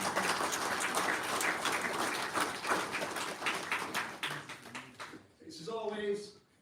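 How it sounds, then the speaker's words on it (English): Audience applause at the University of Hull employability awards ceremony, a dense wash of clapping from a large hall that fades out after about five seconds, with a voice starting to speak at the end. "let's have a round of applause for the university."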